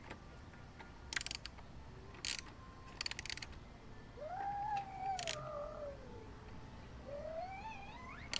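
An Allen key tightens the bolts on a TST frame slider fitted to a 2020 Kawasaki Ninja ZX-6R KRT Edition. Several short, sharp metallic ratcheting bursts come at irregular intervals, close by, with faint whistling tones between them.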